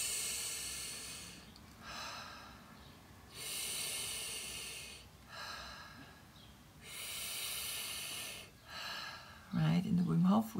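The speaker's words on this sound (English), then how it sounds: "in the Wim Hof we breathe 40 times like that" Deep, forceful Wim Hof breathing comes through as a person takes slow repeated breaths, about five audible inhale-exhale cycles, loud and close, with a voice starting to speak at the end.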